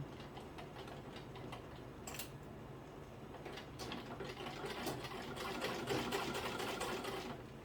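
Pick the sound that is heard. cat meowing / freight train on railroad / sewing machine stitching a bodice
sewing machine stitching a bodice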